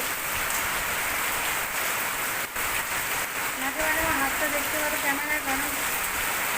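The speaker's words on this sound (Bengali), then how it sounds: "মারাত্মক বৃষ্টি হচ্ছে" Heavy morning rain pours down in a steady, dense hiss that fills the whole stretch, with a faint tonal sound drifting in partway through.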